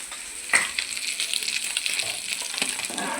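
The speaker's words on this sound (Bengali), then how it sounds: "এখানে রুই মাছ ভাজা হচ্ছে" Rohu fish frying in a pan gives off a steady, dense sizzle with bright crackle and spitting throughout, one sharper pop near the start, close and fairly loud with no voices.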